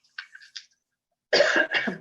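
A person coughs: a few small throat sounds first, then two heavy, close coughs after a short pause.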